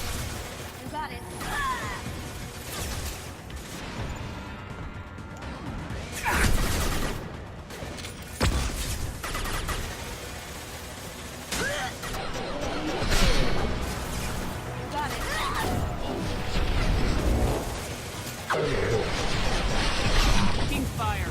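Mass Effect 2 combat with repeated bursts of gunfire and impact crashes, loud and continuous over game music and effects, with in-game voices calling out during the firefight.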